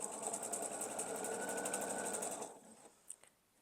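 A sewing machine runs steadily for about two and a half seconds, stitching fabric triangles onto the corners of quilt block pieces, then stops, leaving a few small clicks and handling noises.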